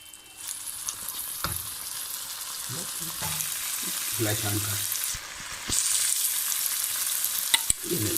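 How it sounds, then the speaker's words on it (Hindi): Chopped green chili sautéing in paneer karahi masala, a steady close sizzle with intermittent stirring clatter from a utensil against the pan, continuous and without talk. "इसको भी थोड़ा सा इसके साथ हम भून लेंगे।"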